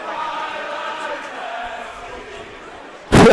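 Crowd at a DRS varsity hockey game singing the national anthem together, a sustained, blended chorus of many voices carrying tones from a distance, broken off by a loud burst of noise at the end.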